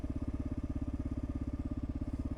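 A 42-horsepower motorcycle engine chugs in a fast, even low pulse while riding, steady and fairly faint, with no talking.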